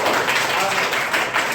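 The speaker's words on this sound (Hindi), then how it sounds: "इनके लिए एक बार जोरदार ताली।" Students in a school classroom clap loudly for a Class 8 winner, a dense, steady burst of many hands lasting under two seconds with no pauses.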